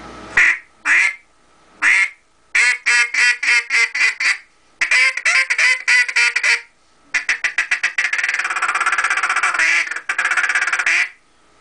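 An H&R duck call blown in quick quacking bursts, single quacks then rapid chattering runs, loud and close with short pauses between series.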